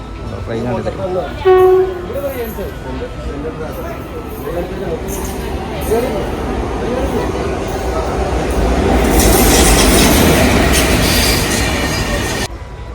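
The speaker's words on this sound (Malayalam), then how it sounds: "ട്രെയിൻ വരുന്നത് ഇതാണ്. ട്രെയിനാണ്." A train rumbles into a station, wheels clacking and squealing as it draws closer and grows louder, with people talking nearby at the start.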